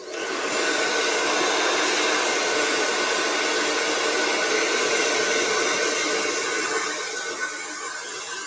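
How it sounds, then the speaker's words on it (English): A blow dryer drying a freshly painted Valentine's lovebirds painting gives a steady, loud, close whooshing hiss that runs for about seven seconds before easing slightly near the end. "Let me take my blow dryer one more time to the birds"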